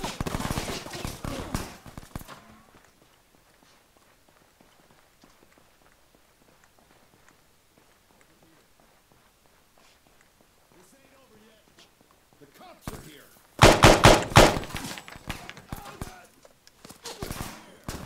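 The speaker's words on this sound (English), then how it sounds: "Shooting! Watch out!" Gunfire in the video game ArmA 3, with a burst of loud rapid shots near the start, a long quiet stretch with faint footsteps, then another loud cluster of shots late in the clip.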